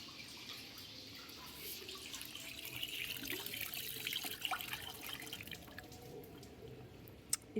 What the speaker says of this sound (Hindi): टूट के ऊपर से अलग हो गया हुआ था और पानी उसमें से निकली जा रहा था